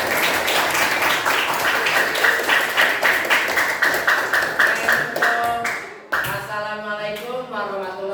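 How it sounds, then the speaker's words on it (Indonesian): Students clapping together in a school classroom, brisk rhythmic claps for several seconds, then an abrupt stop followed by children's voices chanting together. "Tepuk tangan untuk kita semua"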